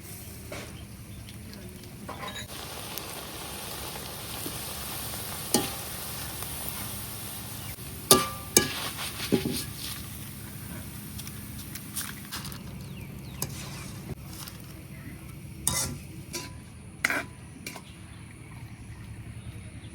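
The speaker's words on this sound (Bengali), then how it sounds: "চিরাটাও ভাজিয়ে নিলাম।" Flattened rice (chira) fries in a wok with a soft steady hiss, broken by sharp clicks and scrapes of stirring, close and fairly quiet over twenty seconds.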